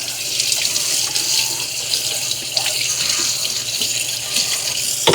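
Tap water runs steadily into a sink while a Tineco S9 Artist Pro vacuum filter and its collected debris are rinsed, a continuous close splashing flow with no talk.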